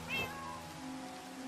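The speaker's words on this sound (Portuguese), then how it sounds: "Y cuando te pegan hacen como gatos." Cat meow sound effect from cat-themed boots in Minecraft, played when the wearer is hit: a single short, high meow near the start, clear and fairly close over a quiet steady game background.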